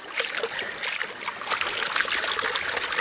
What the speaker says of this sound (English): You're gonna take it over to the creek, a nice place where there's not a lot of current, and you're gonna pan it out.